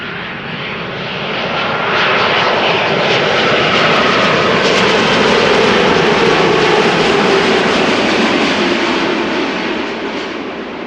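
An aircraft landing at Amsterdam Schiphol Airport, its engines building into a loud, sustained roar that swells and holds before easing slightly, close and alone with no voices.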